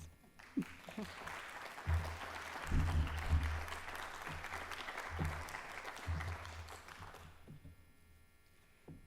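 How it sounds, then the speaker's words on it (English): Applause from a lecture audience for the Denny Lecture speaker on Seattle's waterfront, a steady wash of many hands at moderate level with low hum beneath, tapering off at the end. "Please give her another round of applause."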